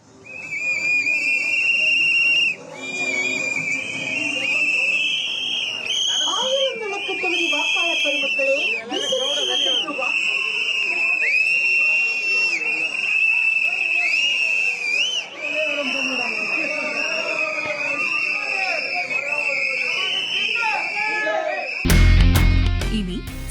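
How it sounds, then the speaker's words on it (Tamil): Loud, shrill whistles blown over and over by a crowd at a TVK election campaign rally for candidate J.C.D. Prabhakar in Chennai, with cheering and shouting underneath, ending in a sudden burst of noise. "விசில் சத்தம் எதிரொலித்து வருகிறது"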